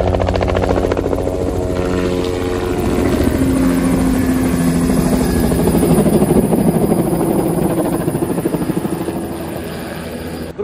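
A helicopter ferrying Christmas trees on a US tree farm thunders close by, its loud rotor chop and engine whine steady throughout before easing slightly at the end.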